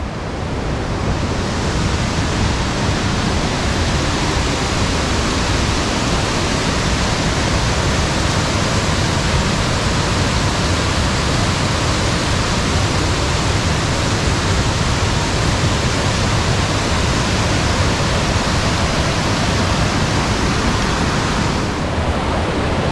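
A large waterfall in Skagway, Alaska roars as a steady, loud, broadband rush that holds constant and unbroken from start to finish, with no voices over it.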